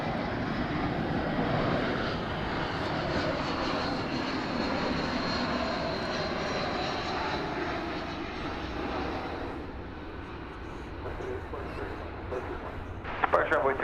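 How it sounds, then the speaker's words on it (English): An American Airlines Airbus A321 arriving from San Francisco at DFW Airport makes a continuous broad engine roar, fairly distant and steady, slowly fading, with a few brief clatters at the end. "That was American Flight 2798 arriving from San Francisco on Airbus A321."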